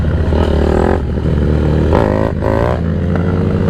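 Dirt bike engine revving hard and close, its pitch climbing and dropping through a few quick throttle bursts with some mechanical clatter, during a first ride while learning to wheelie.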